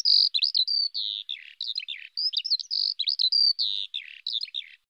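Birds chirp and tweet in quick, bright bursts that keep going for several seconds, close and clear with no other sound around them.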